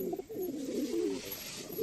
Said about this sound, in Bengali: এই যে আমার মেল পায়রাটা।